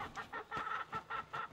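Hens clucking in a coop run in snowy weather, a rhythmic series of about six clucks close by, alone with no talking.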